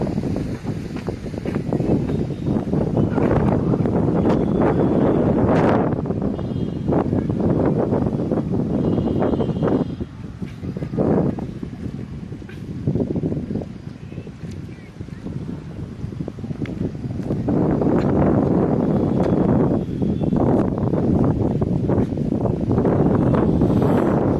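Wind gusts across the microphone beside Hoodi Lake, a continuous loud buffeting rumble that rises and falls throughout.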